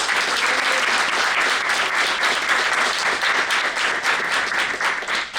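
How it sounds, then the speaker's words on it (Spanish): Audience at a panel event in Chile welcomes a journalist with strong applause, loud, steady clapping that fills the whole stretch of more than five seconds. "Por favor, recibámoslo con un fuerte aplauso."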